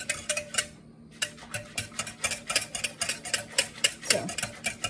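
A whisk clicks rhythmically against a pot of warm milk being cooled for homemade yogurt, steady regular ticks close up with one brief pause near the start.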